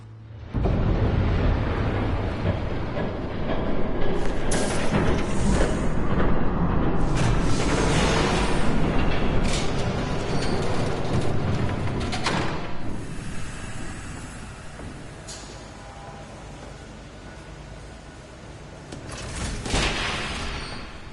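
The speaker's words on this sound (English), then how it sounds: "There's a train coming." In a Batman video game, a train roars past with a continuous loud rumbling clatter, swelling and fading over about twenty seconds with sharp metallic bursts.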